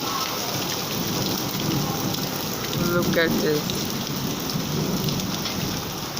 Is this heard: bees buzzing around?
no